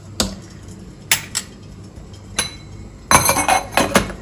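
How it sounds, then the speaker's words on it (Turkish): A spoon clinks against a tea glass while stirring tea, giving sharp, bright metallic-glass taps, isolated at first and then a quick cluster of rapid clinks near the end, close and clear with no talk. "Şöyle azıcık karıştıralım."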